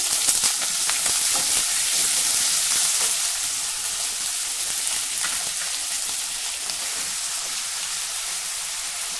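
Potato slices and green chili sizzle in hot oil alongside fried peanuts in a pan, a steady, close crackling fry that hisses continuously throughout with no voices.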